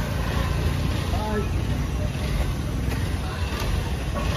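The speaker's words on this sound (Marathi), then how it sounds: "अरे गाडी आली बघ." A car arrives with a loud, steady engine drone and road rumble that fills the whole moment without a break, with voices mixed in underneath.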